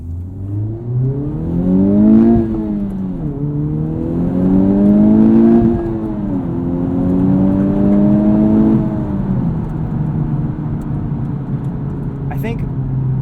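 A 2020 Honda Civic Type R engine is revved through its rev range in repeated rising pulls, each climbing in pitch before dropping back at a shift, loud and close from inside the car, fading toward the end.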